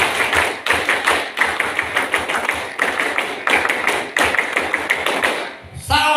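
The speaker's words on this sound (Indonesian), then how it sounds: "2 kali tepuk pramuka." An Indonesian scout crowd at the Gandus campground in South Sumatra performs the tepuk pramuka, a loud, crisp rhythmic clap pattern of rapid claps and pauses, repeated through two rounds before trailing off.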